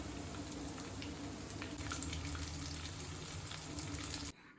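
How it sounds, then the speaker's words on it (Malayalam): Samosas deep-frying in hot oil give a dense, steady bubbling sizzle, close and even in level, that cuts off abruptly just before the end, with no talking. "നമ്മുടെ സമൂസ ഇവിടെ ഫ്രൈ ആയിക്കൊണ്ടിരിക്കട്ടോ"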